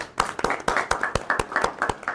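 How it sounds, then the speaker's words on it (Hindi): A small audience at a celebration event claps in sharp, fairly regular beats, about a dozen distinct claps over two seconds, close and crisp rather than a full roaring applause. "इरफान चौधरी साहब के लिए भी बहुत सारी तालियाँ हो जाएगी"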